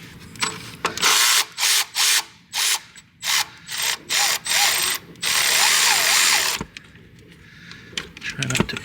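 Ratchet breaking loose and spinning off an 8mm bolt on the intake of a 2022 Ford 6.7 diesel truck, loud rapid clicking in repeated short bursts, then a longer continuous ratcheting run, close up.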